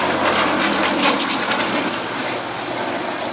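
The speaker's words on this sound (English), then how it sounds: "It was the last biplane fighter in Royal Air Force service" Steady roar of a 1930s piston-engined biplane fighter at full power, a loud propeller drone that eases slightly toward the end with no voices.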